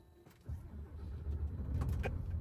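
A car engine starts up close by, a brief cranking burst followed by a steady low running rumble, with no talking.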